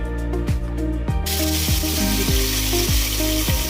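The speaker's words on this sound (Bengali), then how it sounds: "এবার ওই তেলের মধ্যেই আমরা গোটা শুকনো লঙ্কা এবং গোটা সাদা জিরে ফোড়ন দিয়ে দিলাম।" Whole dried red chillies and cumin seeds fry in hot oil, a continuous close, loud sizzle with sharp crackles and pops repeating every half second or so.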